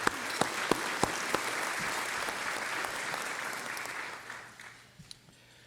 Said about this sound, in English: Let's have a round of applause for our corporate sponsors.